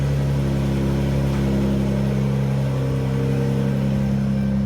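A Dodge Charger 3.6L V6 idles steadily right after a fuel pump swap, a close, even engine drone with a strong low hum and no change in pitch throughout, heard alone without talk.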